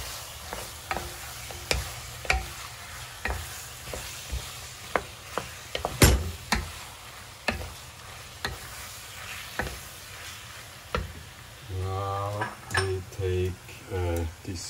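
Onions are stirred in a sizzling pan, sharp metallic clicks and scrapes of a utensil recurring at an uneven rhythm over a soft frying hiss, then a voice speaks briefly near the end.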